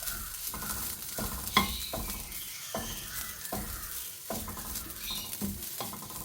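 Grated coconut roasting in a pan, stirred with a spatula in a steady rhythm of scraping strokes over a soft, continuous sizzle, close up and with no voices.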